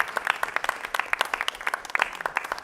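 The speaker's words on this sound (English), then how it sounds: "Can I just give our students a round of applause?" Applause from the audience at a school board of education meeting, honoring students: many quick, sharp claps layered into a steady round that carries on alone at moderate loudness throughout.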